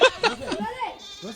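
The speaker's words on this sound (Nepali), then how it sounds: "बाख्रा कराएर" A goat bleats several times in quick succession during an outdoor picnic in nature, loud and close, with wavering nasal cries and people's voices nearby.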